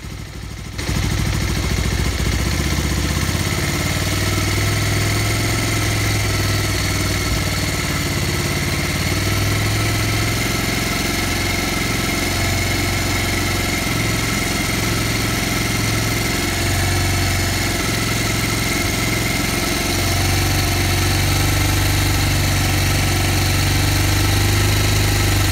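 A small engine runs steadily at idle while its carburettor fuel screw is tuned, a loud continuous drone with slight rises and dips in pitch as the revs shift, with no talk over it.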